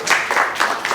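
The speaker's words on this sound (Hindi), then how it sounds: "ताली हो जाएगी।" Brief burst of applause from a seminar audience, several hands clapping close together in a short, dense patter with no voices over it.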